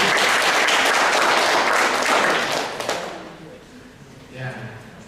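Audience applause at a Valentine's event, dense clapping for about three seconds that thins and fades, followed by scattered low voices talking.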